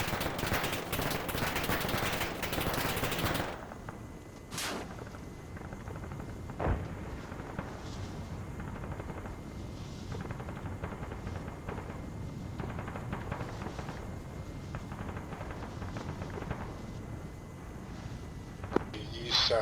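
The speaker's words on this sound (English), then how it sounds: "We got a fire team in the open, currently being engaged by tracer fire." Tracer gunfire in ArmA 3 at a hostile stronghold, opening with a loud dense burst of automatic fire, then scattered distant shots and rattling bursts over a quieter background.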